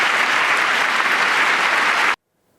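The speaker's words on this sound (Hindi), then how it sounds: "तालियों की ये गड़गड़ाहट बता रही है कि अमेरिका की सरकार इस वक्त टैरिफ को लेकर कितनी आक्रामक है।" Crowd applause after Trump's speech on reciprocal tariffs, a loud, dense, sustained roar of many hands clapping that cuts off abruptly into silence.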